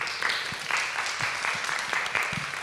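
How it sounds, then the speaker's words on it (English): A church congregation at a Memory Sunday gathering gives a panel a short, steady round of applause, with close, busy clapping throughout. "Can I give a round of applause for my amazing panel?"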